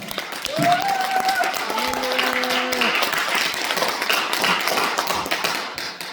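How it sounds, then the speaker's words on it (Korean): A church congregation applauds to welcome its pastor, with sustained clapping throughout, while a voice or sung tone rises briefly over the applause near the start. "자, 우리 목사님 박수로 모시겠습니다."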